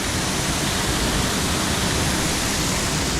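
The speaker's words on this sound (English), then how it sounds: "There's the waterfall." Constant broadband rush of a waterfall along a wooded trail, loud and close, unbroken from start to finish, with no talk.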